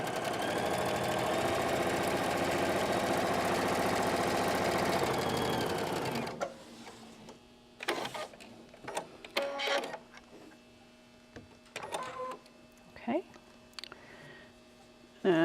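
A sewing machine runs in a steady rapid mechanical whir, stitching quarter-inch seams on double wedding ring quilt fabric pieces, then stops; someone talks afterward over faint handling of the fabric.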